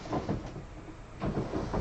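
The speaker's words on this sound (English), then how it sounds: "I sound like a rat rummaging through drawers" Someone rummages through drawers, producing close, loud bursts of clattering and knocking at the start and again near the end, with a quieter shuffling stretch between.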